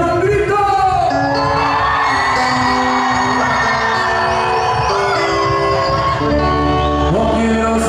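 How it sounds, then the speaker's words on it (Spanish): At a live show at Expori 2016, the crowd whoops and yells loudly as the guitar comes in, with cheering layered over the ongoing band music. "al comenzar con la guitarra se echaron un grito"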